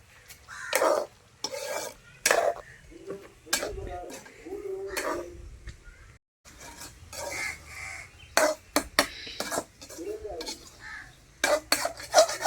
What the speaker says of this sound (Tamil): இன்னும் கொஞ்சம் நல்லா வதங்கி அந்த மசாலாலாம் கனவால ஊற்றுற வர போட்டு வரட்டுன்னு வதக்கணும்.